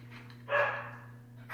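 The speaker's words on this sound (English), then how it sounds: "Don't mind the dogs barking in the background." A dog gives a single bark in the background of a quiet room, with steady electrical hum underneath and a second bark starting at the very end.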